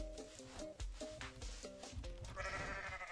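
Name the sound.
goat bleating in video game Goat Simulator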